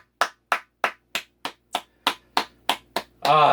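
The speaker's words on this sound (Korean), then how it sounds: "박수." About ten single hand claps at an even, deliberate pace, close and crisp in a quiet room, followed at the end by a short loud burst of noise.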